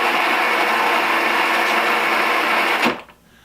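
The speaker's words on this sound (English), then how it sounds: "Looks like we got a working tractor." A battery-powered John Deere Power Pull ride-on toy tractor runs with a steady, loud electric motor whine and gear drone close by, then cuts off abruptly near the end.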